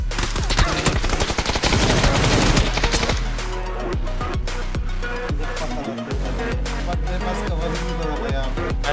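Rapid bursts of PUBG gunfire from Beryl M762 and M416 rifles, dense and loud at first, then a steadier series of sharp shots over a constant background hum.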